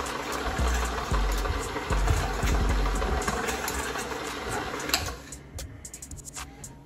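A KitchenAid stand mixer whisks cream cheese for a cheesecake, giving a loud steady motor whir with rhythmic thumping that drops off partway through, leaving quieter clicks and rattles.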